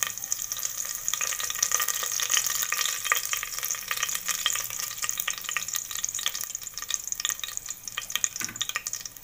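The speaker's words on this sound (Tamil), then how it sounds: "இது நல்லா எண்ணெயில் வதங்கட்டும்" Whole spices such as cinnamon stick and curry leaves frying in oil for vegetable rice, a dense continuous crackling sizzle with quick spits throughout, close and fairly loud, no voices.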